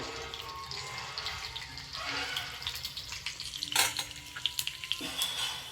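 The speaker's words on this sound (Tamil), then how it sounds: "கடுகு நல்லா வெடித்து வந்ததுக்கப்புறமா" Hot oil sizzles steadily up close while mustard seeds pop and crackle in irregular bursts, growing busier toward the end, during tempering for a Tamil potato fry.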